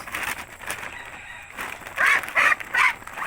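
A young duck calls out loudly and close by, with a few softer early notes followed by three strong, raspy quacking bursts in quick succession.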